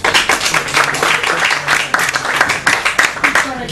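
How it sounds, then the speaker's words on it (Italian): Audience clapping breaks out at an evening history talk, loud and close, with scattered hand claps mixed under several people talking over it. "Ah, se cominciamo a applaudire adesso..."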